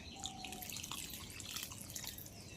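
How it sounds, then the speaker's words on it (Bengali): Water is poured into a pot of cooked lentil dal with a fried fish head, giving a soft trickling and dripping splash, faint and close in a quiet kitchen. "জলটা আমি আমার পরিমাণ মতো দিয়ে দিলাম"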